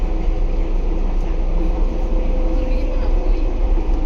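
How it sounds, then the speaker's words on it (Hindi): Driverless London metro train running at speed, a loud steady low rumble with dense rolling track noise filling the whole stretch and no clear breaks. "यार मैं इस ड्राइवरलेस मेट्रो से बहुत ज़्यादा इम्प्रेस हो चुका हूँ।"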